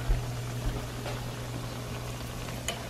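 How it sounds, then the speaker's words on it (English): Bannock dough frying in hot oil, a soft continuous crackling sizzle with a low steady hum beneath and a few faint pops, fairly quiet and close. "Look at that sizzle action going on there."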